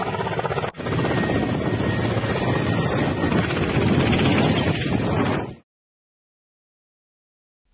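An Mi-8 helicopter of a rescue unit roars close by, a loud steady rotor and engine drone with rapid blade chop, cutting off abruptly into silence near the end.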